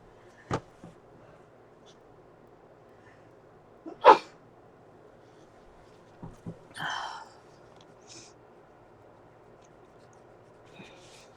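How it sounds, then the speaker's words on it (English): A single sharp sneeze bursts out midway through an otherwise quiet stretch, with a few small clicks and a brief rustle around it. "I feel a sneeze coming on again."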